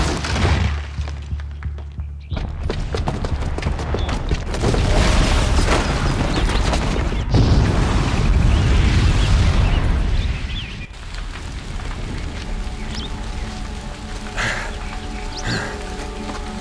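A bomb booby trap goes off in Horizon Zero Dawn, a loud, sustained booming blast with crumbling debris and rumble that eases after several seconds into scattered rattles and lingering ambience.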